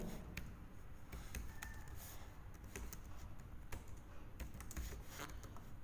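Computer keyboard typing a pip install command, quick irregular clicky keystrokes close up at low volume, with no talk.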